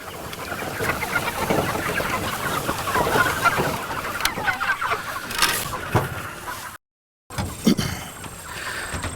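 Pastured broiler chickens on open grass give a steady, busy clucking chorus under outdoor noise, with a short gap of silence near the end before the flock sounds resume.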